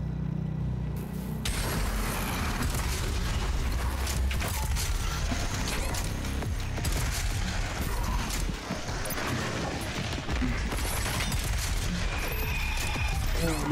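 Rapid explosive weapon fire and impacts from the DOOM Eternal sticky grenade launcher, a dense continuous barrage of bursts layered over game music and effects, loud throughout.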